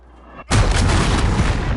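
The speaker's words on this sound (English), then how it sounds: "Enemy cruise missile." A cruise missile explodes in Call of Duty Modern Warfare, a sudden loud, close boom that bursts out of a low rumble and roars on as a dense, sustained blast for over a second.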